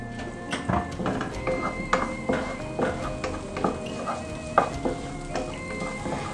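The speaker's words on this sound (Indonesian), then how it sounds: "Setelah mencair, kemudian masukkan bawang putih." Garlic sizzling in melted margarine in a frying pan, a steady crackling fry with repeated utensil scrapes and taps stirring it, close up and fairly loud.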